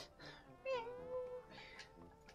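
A cartoonish cat in the game Mineko's Night Market gives one drawn-out meow, bright and moderately loud, with a person talking quietly around it.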